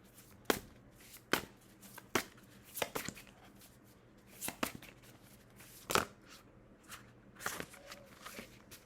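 Tarot cards are shuffled and riffled by hand in a series of sharp, brief bursts separated by short pauses, fairly close and quiet, with no talk.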